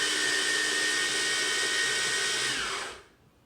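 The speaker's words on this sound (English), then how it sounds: "I'm going to grind them just a little more." Whole almonds, about 1.25 cups, whirring loudly and steadily in a grinder as they are reduced to a fine flour, the motor holding a high even whine for roughly three seconds before cutting off and fading.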